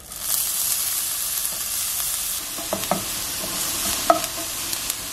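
Onions sizzle in a frying pan for Big Mac tacos, a steady soft hiss with occasional light crackles and pops, close and moderately quiet.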